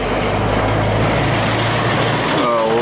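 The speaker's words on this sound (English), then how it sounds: "All it takes is a forestry truck." A forestry truck passing close by on a rural glen road, a loud, continuous heavy engine and tyre drone that holds steady throughout.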